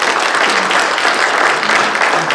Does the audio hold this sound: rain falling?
no